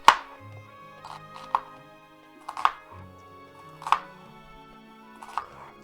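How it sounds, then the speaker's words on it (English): A knife rock-chops lamb filling finely on a cutting board for Lebanese stuffed cabbage rolls, giving a handful of soft, spaced taps heard close with nobody talking. "Yeah, I like this rock and chop for this."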